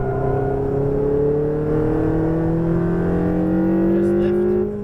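A Ferrari 488 GTB engine pulls hard under throttle on track, a loud steady climbing drone with rising harmonics, heard from the cabin.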